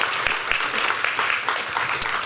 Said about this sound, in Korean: 감사의 박수 좀 보내주시면 좋겠습니다